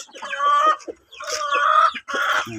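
A battlecock gamecock on a free-range heritage backyard chicken farm crows and clucks in three close, loud bursts with short gaps, no talking.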